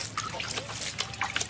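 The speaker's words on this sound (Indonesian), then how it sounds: "kita siram seperti ini" Probiotic liquid poured and splashed over fermented feed made from chopped banana tree, a steady close trickle with small spattering bursts throughout.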